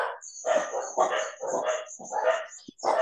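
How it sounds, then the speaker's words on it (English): Several dogs barking repeatedly in bursts, loud and close, picked up over an online call connection, with a high steady tone running behind them. "there is the noise of the dogs"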